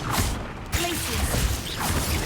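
Glacius freezing spell from Hogwarts Legacy going off: a loud mechanical crackle and crash with a sharp hit near the start, followed by creaking, icy game effects under a voice.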